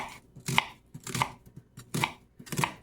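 A knife finely chops an onion on a board in four crisp, evenly spaced strikes, close and clear with nothing else heard.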